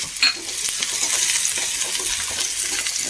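Steady crackling sizzle of onions, shallots and curry leaves frying in hot oil after mustard seeds, with a few stirring scrapes near the start; close and continuous, no voices.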